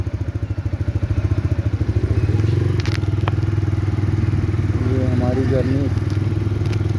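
A motorcycle rides along a highway on a tour, its engine thrumming loudly and rhythmically up close as it pulls away and settles into a steady drone, with a voice briefly heard over it.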